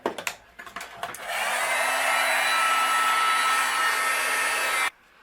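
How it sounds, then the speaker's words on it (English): A heat gun blows steadily for about three and a half seconds, melting white embossing powder on a handmade card. A few soft taps come first, and the loud, even whoosh then cuts off abruptly. "I'm going to use my heat gun, and we'll melt this."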